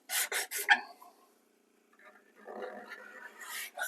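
A scraper rasps across hard ebony wood in a few quick strokes, then a quieter stretch with a voice talking over it.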